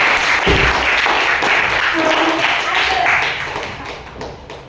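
Students in a classroom clap together in a steady, dense patter that fills the room, holding strong for several seconds before gradually thinning and fading toward the end.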